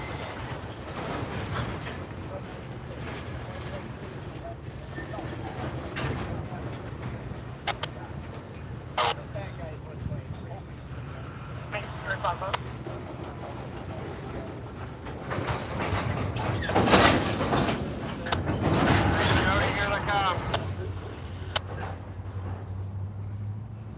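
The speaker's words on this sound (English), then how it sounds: "That engine will go to that train or this train?" Freight train cars roll through the DeButts rail yard, a low continuous rumble with scattered clanks and squeals, heard from a distance alongside bird calls and occasional voices.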